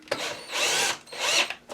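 A power driver fitted with a T25 bit turns a screw on a Craftsman chainsaw during a carburetor install, giving two close whirring bursts with a short pause between them and no talking.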